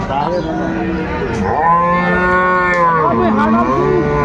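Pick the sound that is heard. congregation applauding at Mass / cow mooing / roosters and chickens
cow mooing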